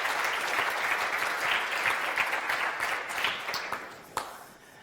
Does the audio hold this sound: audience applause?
yes